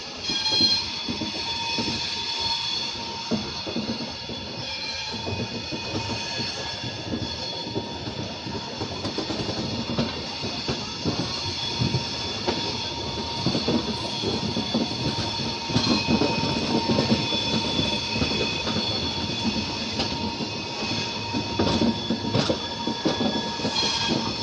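Bandra SF Express train 22934 rounding a curve on the outskirts of Jaipur, with a steady rolling rumble, rhythmic clickety-clack of wagon wheels and faint wheel squeal, loud and continuous throughout.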